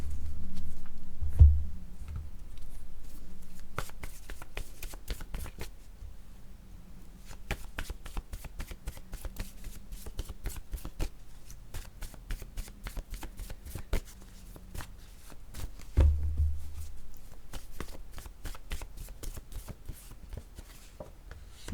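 Playing cards are shuffled and dealt close by in long runs of fast crisp riffling and flicking, broken by short pauses and a couple of soft thumps.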